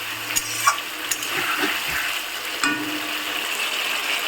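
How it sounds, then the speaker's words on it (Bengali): Spiced masala sizzles and fries in oil in a pan for a Bengali fish curry with potato and cauliflower, with soft stirring scrapes and watery bubbling throughout, steady and close with occasional clicks. "আমি কিন্তু এখনও মশলাটা কষাচ্ছি"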